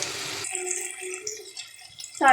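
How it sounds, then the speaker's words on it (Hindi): Water pours from a tap into a pot of Chinioti chicken kunna, a short trickling splash that fades out before a louder burst at the end. "अब साथ ही इसमें पानी ऐड कर देंगे"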